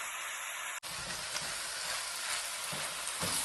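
Beef and vegetables fry together in a pan with a steady, close sizzle and hiss, stirred now and then, following a brief cut near the start.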